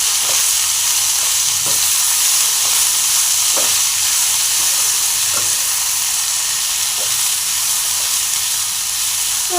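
Sweet corn chivda seasoned with salt and chili powder fries in a pan with a loud, steady hiss and crackle, while faint periodic scrapes from stirring tick through it.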